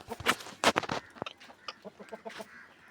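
Several chickens cluck in short, scattered bursts, fairly close, including a louder cluster of calls early on and softer clucks that follow, with no talking.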